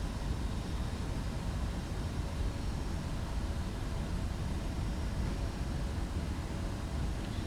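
Simulated Boeing 767-300ER engines in X-Plane 11 spool up for taxi at night, a steady low rumbling roar with a broad hiss that stays even and continuous with no talk.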